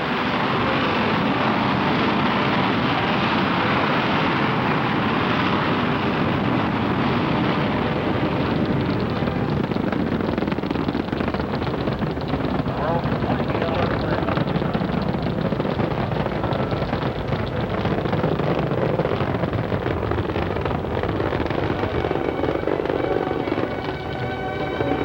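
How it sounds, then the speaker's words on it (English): Apollo 10 Saturn V rocket lifting off the launch pad with 280 tons of fuel, a continuous loud broadband roar rumbling steadily for the whole stretch, thick and unbroken, easing slightly near the end. "the rocket cleared the pad"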